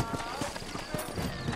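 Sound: horses clip-clopping in a video game

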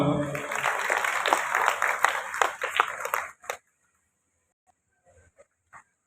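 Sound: applause welcoming a guest at a meeting

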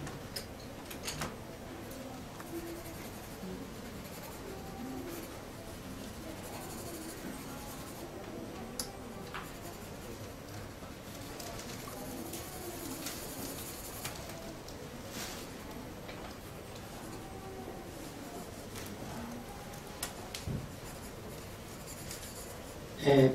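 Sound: drawing croquis with pastels and charcoal pencil on paper

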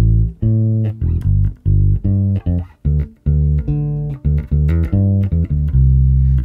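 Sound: bass guitar playing a verse variation

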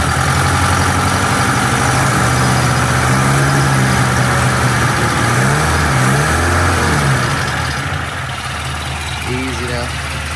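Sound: 1972 Toyota Celica engine idling

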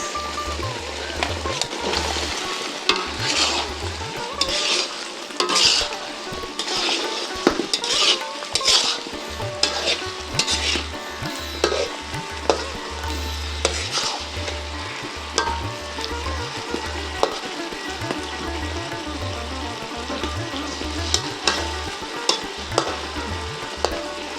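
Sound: hilsa fish frying in spice paste in a pan

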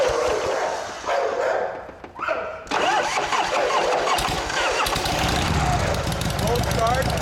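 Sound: 1984 Harley-Davidson FXWG Wide Glide motorcycle engine cold start

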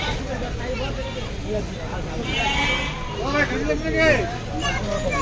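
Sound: sheep bleating at a cattle market

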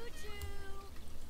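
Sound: cat meowing in video game The Sims 3

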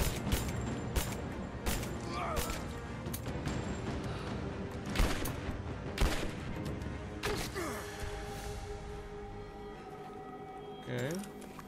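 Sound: shotgun gunfire in the video game Rise of the Tomb Raider

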